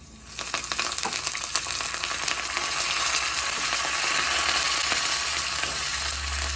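Curry leaves sizzling in hot oil while making broccoli dal, a steady, dense crackle and hiss that starts abruptly and stays loud and continuous with sharp pops scattered through it.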